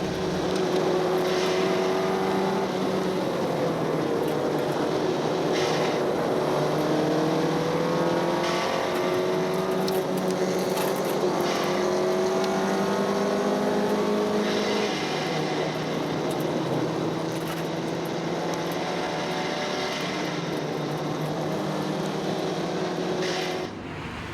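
An old-technology rally car engine racing on undulating Taranaki roads in Targa NZ, a loud sustained drone rising and falling as it revs through gears, heard continuously throughout.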